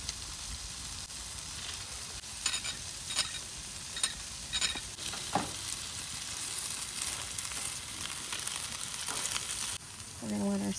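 A sauce made with grape jelly simmers in a pan, giving a soft continuous hiss and sizzle with occasional spoon scrapes and a few brief clatters near the end.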